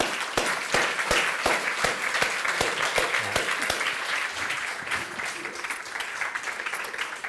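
An audience applauds steadily, a dense wash of many hands clapping with a few sharper nearby claps standing out, continuing at an even level.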